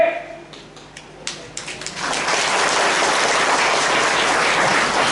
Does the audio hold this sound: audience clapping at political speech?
yes